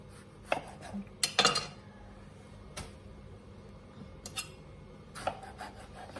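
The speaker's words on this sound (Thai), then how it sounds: "ต่อไปนะคะเราก็จะมาหั่นมะเขือเทศค่ะ" Several sharp knife taps and crisp slicing clicks on a cutting board as a large tomato is cut, close by, spaced irregularly over quiet room tone with no talking.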